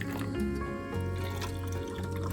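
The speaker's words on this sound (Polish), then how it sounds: "Teraz na każdą puszeczkę dodajemy puszeczkę wody w gorącą wodę." Hot water poured into a creamy canned-sauce mixture for skinless boneless chicken thighs, a soft close trickle and liquid splash running steadily under a faint hum, no clear speech.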